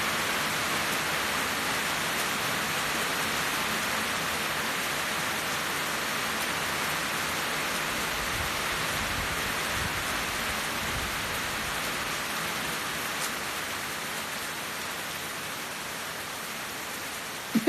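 Steady rain falls continuously, a dense even wash of drops on surfaces that stays close and fairly loud throughout, with no talking.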